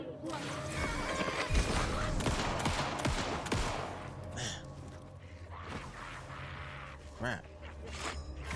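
Gunfire in the horror game Alan Wake II: a dense flurry of sharp shots and impacts, loud at first and then thinning into scattered bangs, with a person talking over parts of it.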